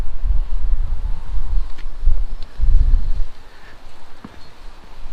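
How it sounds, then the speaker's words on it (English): Strong wind gusting through woodland at a hammock and tarp campsite, buffeting the microphone in loud, low rumbling surges that swell and fade, with faint rustling in the calmer moments. "So the wind today, Saturday now, is a lot worse than it was yesterday."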